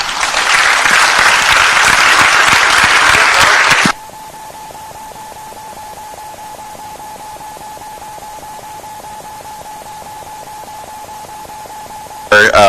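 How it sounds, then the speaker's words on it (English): Loud audience applause for a fintech conference panel fills the first four seconds, a dense crowd clapping that then drops to quiet room tone with a faint steady tone. "please pay them with a round of applause"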